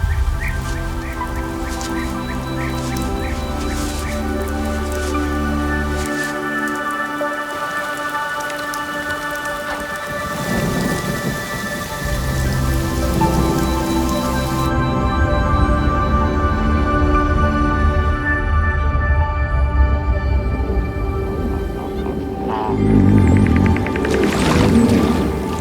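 Heavy wet-season rain falls steadily in Zambia, a dense, continuous hiss of drops on surfaces that holds at an even loudness throughout, with a slight swell near the end and no voices.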